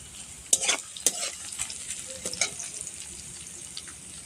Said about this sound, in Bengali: 3টে আলু কেটে রেখেছিলাম, সেগুলি কড়াইয়ের মধ্যে দিয়ে দিলাম।